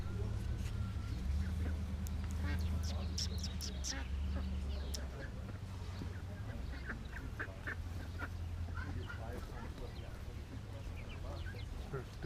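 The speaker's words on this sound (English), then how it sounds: "There's ducks too." Ducks quack at a farm with tomato plantings, a steady chorus of honking calls under people chatting nearby, with a continuous low background rumble throughout.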